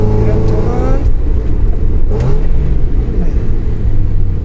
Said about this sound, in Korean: 브레이킹을 하면서 뒤꿈치로 엑셀을 툭 쳐주면서 그 사이에 기어가 한 단 내려가는 이러한 동작이 되겠죠